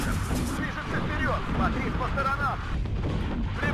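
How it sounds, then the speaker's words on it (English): An artillery gun strike in the Cold War strategy game Warno, deep booming impacts and rumbling blasts rolling under loud overlapping voice chat, with whistling tonal sweeps mixed in throughout. "Ultra gun strike incoming over here."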